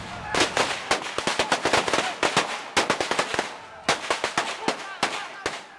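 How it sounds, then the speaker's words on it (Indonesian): Warning shots fired repeatedly by Indonesian soldiers during a village clash in Lombok, a rapid irregular series of sharp cracks in bursts, close and loud, with brief pauses between volleys. "Tembakan peringatan dari aparat TNI yang berjaga-jaga ini"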